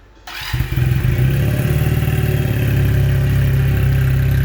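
A modified Junak M15 motorcycle engine cranks and fires up, then settles into a loud, throbbing idle close by.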